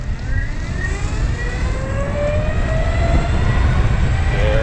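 A Backfire Boards Hammer Sledge electric skateboard pulls away from a dead stop at full throttle, its motor whine climbing steadily in pitch over a constant loud rumble of wheels and wind.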